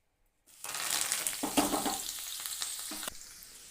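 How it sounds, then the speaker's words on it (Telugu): Garlic and curry leaves dropped into hot oil in a pan, bursting into a loud, close sizzle and crackle with a few stirring scrapes, steady after the sudden start. "అదే మూకిట్లో వేపేసుకోవాలండి."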